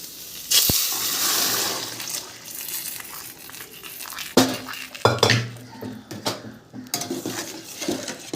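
Lentils tipped into a pot of lau (bottle gourd) with salt and turmeric for biulir dal, giving a rattling pour followed by clinks and knocks of a utensil against the pot, close and moderately loud with some wet splashy texture.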